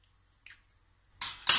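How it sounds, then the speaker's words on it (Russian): An egg cracked into a glass in a home kitchen: a faint tap, then a short crisp crack and a wet splat, close and quiet. "В бокал разбиваю яйцо."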